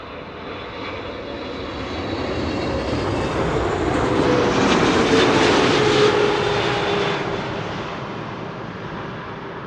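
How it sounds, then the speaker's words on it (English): A KLM Boeing 777-300 arriving from Cape Town at Amsterdam Schiphol roars past, its jet engine noise swelling from a distant rumble to a loud peak mid-pass and then easing away. "KLM Flight 598, arrival from Cape Town in South Africa. 777-300, here it is."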